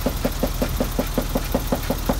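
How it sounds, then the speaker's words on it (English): A BMW E30 325i Touring idles with a steady, evenly spaced knocking from the engine, about five sharp taps per second repeating close and constant. "What's that knocking?"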